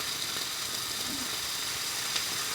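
Bacon sizzles in a frying pan with a dense, even crackle and hiss that holds steady from start to finish, with no talking.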